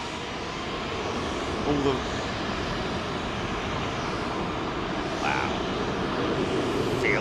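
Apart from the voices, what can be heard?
jet aircraft departing Heathrow runway 27L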